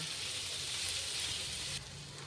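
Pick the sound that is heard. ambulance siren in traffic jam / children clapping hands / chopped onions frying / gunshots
chopped onions frying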